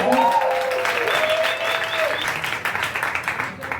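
An audience at a stand-up comedy roast breaks into loud applause, with some voices early on. The clapping thins toward the end.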